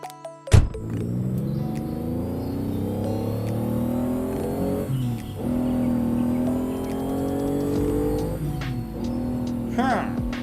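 The red sports car's engine in the Stickman Doom game revs up and down in long rising and falling sweeps, loud and close, after a sharp bang at the start.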